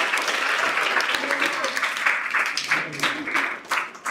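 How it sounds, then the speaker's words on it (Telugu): Schoolchildren in a classroom applaud a girl who answered a question, a steady burst of many hands clapping close by, with voices mixed in beneath the clapping. "ఆ పాప క్లాప్స్ కొట్టండి అంత"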